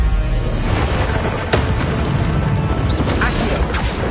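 A spell cast in Hogwarts Legacy, heard as a sudden burst and whoosh over a loud, constant rumbling game background, with a few fainter pops and magical shimmers after it.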